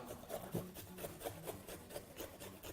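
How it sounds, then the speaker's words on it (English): Fresh ginger is rubbed against a grater in quick, quiet, rhythmic rasping strokes, evenly spaced and close by, with no voices over them. "So proceed by grating your ginger"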